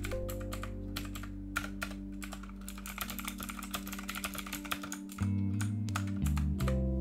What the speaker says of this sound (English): That mechanical keyboard's got to sound ridiculous, huh?